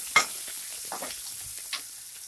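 Grated ginger fries in a pan for Andhra-style palak pappu under a faint, steady sizzle, with a few quick scraping stirs of a spoon.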